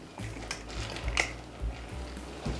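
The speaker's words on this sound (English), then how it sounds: "All right, stir those babies in." A spoon stirs chocolate chips into cookie dough in a bowl, giving a few soft clinks and scrapes in uneven strokes, close and fairly quiet.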